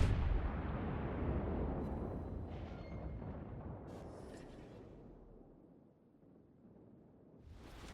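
Battleship main gun fire in the naval combat game World of Warships: a heavy low rumbling boom that rolls out and fades over several seconds, with faint distant reports and a fresh blast at the very end.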